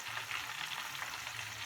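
Korean-style chicken frying in hot oil gives a steady, dense sizzle that runs unbroken from start to finish, fairly quiet and close, with no voices.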